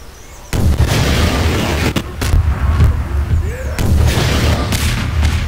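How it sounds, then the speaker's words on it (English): Explosions in the Garry's Mod sandbox game: a loud sudden boom followed by a sustained roaring rumble with further crackling blasts and bursts, close and loud. "Explosion"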